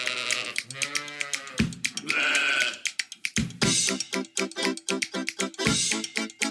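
Merino sheep bleat repeatedly in a rising and falling series of wavering, nasal calls, several overlapping, loud and close with brief gaps between them.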